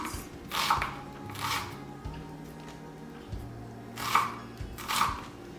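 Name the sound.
chopping onions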